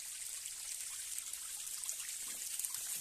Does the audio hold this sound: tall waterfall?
yes